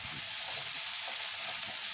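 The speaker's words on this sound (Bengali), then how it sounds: "দেখো পেঁয়াজটা কি সুন্দর লাল লাল করে ভাজা হয়ে গেছে।" Sliced onion sizzles steadily in hot oil in a pan for a Bengali fish-head curry, a close, even hiss with faint stirring and no talking.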